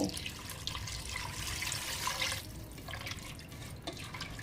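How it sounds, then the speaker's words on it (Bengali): Water is poured into a pot of mashed dal and potatoes before pressure cooking, a soft close splashing and trickling pour with a few drips. "এখন আমি এর মধ্যে পানি দিয়ে দেব"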